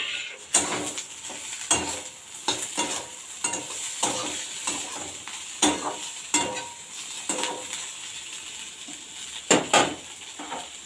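Fried fish goes back into an oily pan, crackling and sizzling while a utensil scrapes and stirs in repeated sharp strokes. Clattering pan knocks recur every second or so over the continuous frying hiss.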